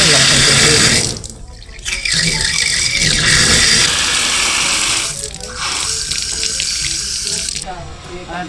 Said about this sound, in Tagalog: Ayan po at gumana na po lahat ng gripo.